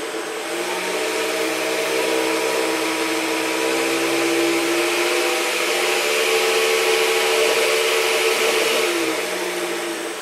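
A 3D-printed brushless motor runs loudly and steadily as its power is turned up, a droning whir whose tone shifts slightly as it climbs before easing near the end.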